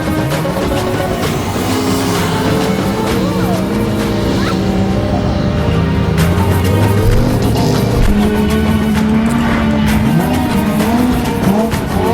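Cars drift and perform stunts on the desert sand dunes of Liwa Moreeb in the UAE, with loud engines revving up and down and tyres squealing continuously, one car after another.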